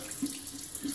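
Water runs from a bathroom tap to wet a shaving brush, giving a steady close splashing hiss with a few brief swells as the bristles meet the stream.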